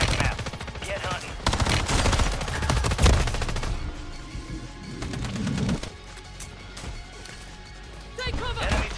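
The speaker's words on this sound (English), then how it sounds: "Taking fire." Rapid bursts of automatic gunfire crackle through a Call of Duty Warzone firefight, loud and dense through the first half, then thinning into scattered shots, with game voice callouts sounding alongside.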